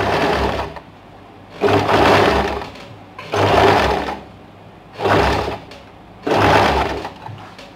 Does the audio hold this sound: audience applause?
no